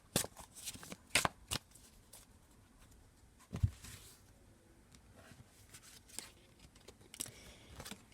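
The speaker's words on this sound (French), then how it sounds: "je vais prendre une carte du Tarot Vision" Tarot cards are shuffled and drawn by hand, close and quiet, with sharp riffling bursts early on, then softer sliding and tapping of cards.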